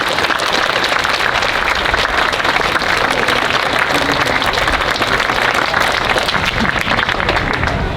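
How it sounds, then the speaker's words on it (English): Sustained applause from the crowd in the stands at a RoboSub 2026 award ceremony, a steady dense wash of clapping, loud and close, lasting the whole stretch without a break. "another round of applause"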